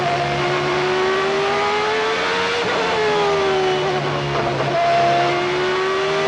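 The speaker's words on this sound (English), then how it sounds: "you can hear how he lets the engine drop" A Williams Formula 1 car at the 1992 Spanish Grand Prix screams with a high, steady engine whine. The pitch dips twice as the revs drop and then climbs again, loud and close.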